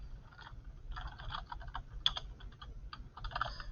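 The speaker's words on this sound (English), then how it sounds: "I can type in what I see happening here" Quiet, close-up typing on a computer keyboard, with short bursts of key clicks separated by brief pauses over a low background hum.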